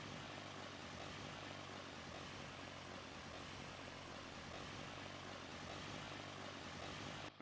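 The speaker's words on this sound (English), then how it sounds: "It's time to get this thing all taxied out to the runway, and we're going to get ourselves up in the air" Crop-dusting propeller plane from Farming Simulator 22 taxiing toward the runway, its engine a steady, loud, continuous drone with a constant low hum that holds unchanged throughout.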